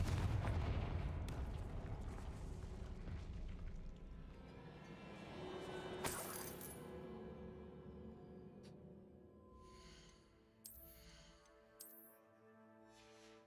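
A Confringo spell blast in Hogwarts Legacy on PS5, a loud booming explosion at the start that rumbles and decays over several seconds, with a sharp crack midway and faint game effects after.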